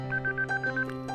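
Short telephone ringtone playing in a repeating pattern of brief electronic tones over a steady low hum, in a dramatic scene where a father receives a call from his child.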